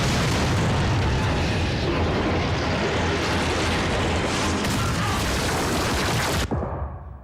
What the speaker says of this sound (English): That is an insane explosion.